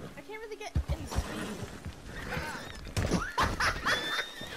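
A horse whinnies in short bursts close by on a ranch outing, with people talking and calling out over it throughout.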